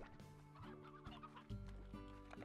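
Chickens cluck in short repeated calls in the Slime Rancher video game, a close, quiet burst of fowl sounds with no talk.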